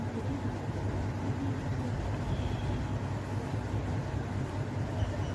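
A Kerala metro train pulls into a station, a steady low rumble with broad rushing noise holding even throughout and no voices heard.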